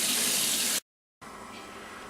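Kitchen tap water gushes into a sink while raw chicken is rinsed, a loud steady splashing that cuts off abruptly, pauses briefly, then resumes softer.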